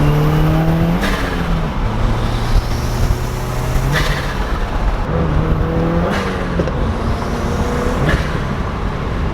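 A Subaru WRX with its front bumper removed revs hard, the engine note rising and falling through several sustained climbs with brief dips between, loud and close throughout with no talking.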